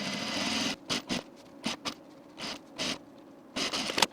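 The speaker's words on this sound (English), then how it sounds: "we're going to sew our seam" A sewing machine sews a seam on a Glover jean jacket, opening with a continuous run of stitching and then moving into short, separate bursts with quiet pauses between them.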